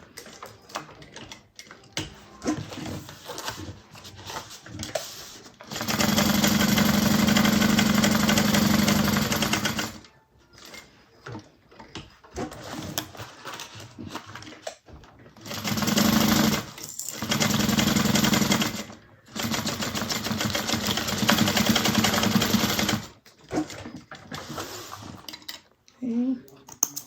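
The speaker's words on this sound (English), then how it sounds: "be careful as you sew over that zipper" A sewing machine runs over a zipper while sewing a bag, coming in several sustained whirring bursts separated by pauses, with a person talking between the runs.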